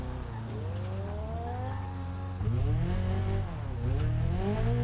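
A car braking hard and skidding in the BeamNG.drive racing game on a mountain course, engine tones dropping and sliding with a squeal, then revving again in two short bursts, loud and close with no talk.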